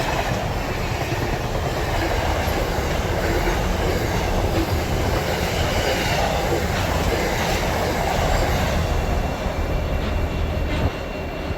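Pacific National freight trains roar past at close range, a loud continuous rumble of wheels and wagons with clickety-clack and occasional wheel squeal, sustained without pause.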